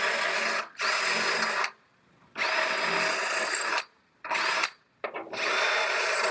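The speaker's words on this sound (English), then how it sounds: "So as I'm drilling these out," A power drill bores out spot welds on a rear body panel of a damaged Honda CR-V, running in several whining bursts of one to two seconds each, separated by brief pauses, loud and close.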